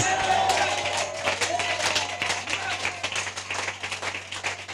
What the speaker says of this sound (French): Donne-nous une main d'acclamation.